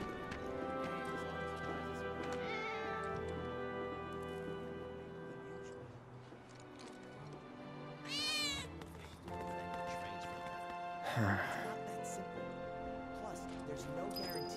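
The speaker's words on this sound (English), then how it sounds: "I think one of Betty's cats might be nearby." A cat meows a few times in the video game Final Fantasy VII Remake, two short rising cries standing out over a steady backdrop of game music and ambience.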